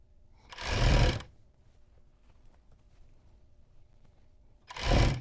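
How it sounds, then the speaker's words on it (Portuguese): A sewing machine stitches a seam through elastic on a basic strappy tank top, two short loud bursts of motor whirring about a second long, separated by quiet handling. "A gente vai passar a costura, passa devagarzinho mesmo na parte do elástico."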